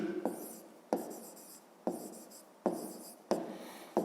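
A pen writes on paper during a maths exercise, giving soft scratching strokes in five short bursts, each starting sharply and then trailing off, close and quiet.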